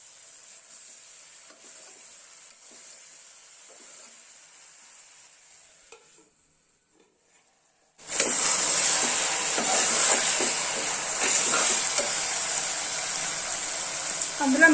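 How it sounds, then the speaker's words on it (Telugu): Three medium tomatoes cooking in a pan for a brinjal and fenugreek curry, heard as a quiet simmer that gives way to a loud, steady sizzle with stirring scrapes, while someone talks faintly. "3 మీడియం సైజ్ టమాటాలు కూడా బాగా మగ్గించుకోవాలి."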